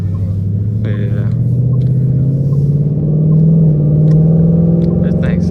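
A 2019 Mustang GT runs with a steady, loud low drone that swells partway through as the revs rise, heard from inside the car with no talk over it.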